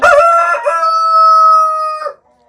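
A single loud, close rooster crow, one long sustained call that cuts off abruptly, with no other sounds around it.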